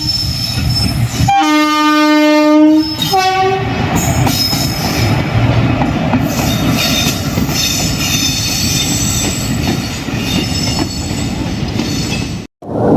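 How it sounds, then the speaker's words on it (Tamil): An express train from Mayiladuthurai to Sengottai passes close on the opposite track, opening with a loud sustained horn blast followed by a second shorter one, then a continuous rumbling roar of wheels and coaches rushing by. "இப்போ ஆப்போசிட்டில் பார்த்தீங்கன்னா நம்மளுக்கு மயிலாடுதுறை செங்கோட்டை வண்டி வருது."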